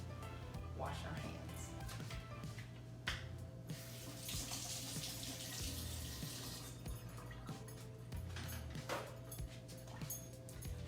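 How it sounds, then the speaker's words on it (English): Hands washed under a kitchen tap, a steady stream of running water splashing into the sink, with a low hum underneath and someone talking over it. "What do we have to do first? Wash our hands."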